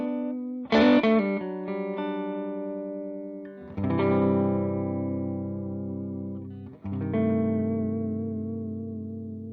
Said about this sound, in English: here's my neck pickup with the volume rolled back a bit